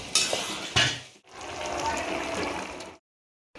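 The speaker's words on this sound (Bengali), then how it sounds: "পাপা গ্যাসে রান্না করছে, আর মা এদিকে উনুনে বসিয়ে দিয়েছে মাটন, একদিকে হচ্ছে সবজি" Mutton and vegetables cook for a large family meal on a gas stove and a clay oven, a brief close sizzle with a couple of sharp stirring clinks, cutting off abruptly into silence.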